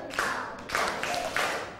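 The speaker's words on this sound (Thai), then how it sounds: "ปรบให้ดังกว่านี" Young schoolchildren in a classroom clap their hands together in four loud group bursts, evenly spaced and close by, with no talking over them.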